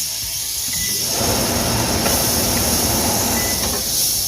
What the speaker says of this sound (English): I'm going to take 2 tablespoons of butter and melt that in a pan.